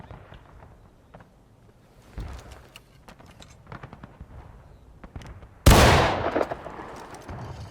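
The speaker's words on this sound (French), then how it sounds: "pourquoi il y a de l'artillerie à droite?" Battlefield artillery and musket fire in the Civil War game War of Rights, near Pry House and Burnside Bridge: scattered distant pops and cracks, then one loud close cannon blast that rolls away into rumbling echoes.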